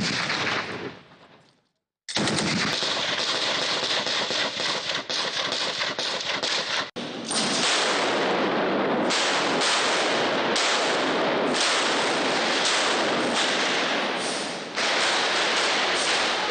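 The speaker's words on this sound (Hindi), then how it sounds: "स्पेशल कॉम्बैट यूनिट के जवानों ने भारी हथियारों से मशकों का शानदार मुजाहिरा किया।" Heavy weapons firing during a special combat unit's passing-out parade drill in Nowshera, a dense, loud barrage of overlapping bursts and blasts that runs almost continuously after a brief gap.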